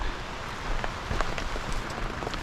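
Rain falling outside during a trip to Whistler, a steady broadband patter with scattered drop impacts, moderately loud and continuous with no talk.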